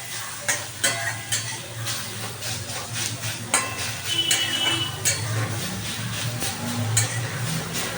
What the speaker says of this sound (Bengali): এবার এটাকে আমি ভালো করে নাড়াচাড়া করে ভেজে নেব।